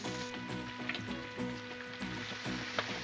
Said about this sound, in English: Let's go ahead and start flipping some bacon.